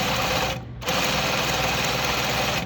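A sewing machine runs steadily while stitching a shirt seam at the yoke, a close, continuous mechanical whir that cuts out briefly for a moment before resuming at the same pace.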